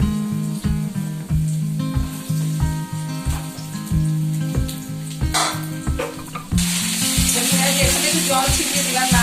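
Vegetables and cumin seeds fry in oil with a bright, steady sizzle, close and loud. A rhythmic thumping beat runs underneath, and the hiss swells sharply louder toward the end.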